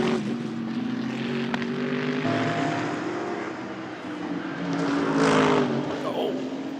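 Race cars at a Michelin Le Mans Cup round, with a steady drone of engines and cars sweeping past, heard under continuous commentary.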